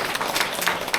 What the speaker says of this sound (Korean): 우리 모두 다 큰 환영의 박수 한번